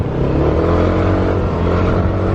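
A car on a road in Bali rumbles steadily and loudly close by, a continuous engine and tire roar filling the whole moment with no talk over it.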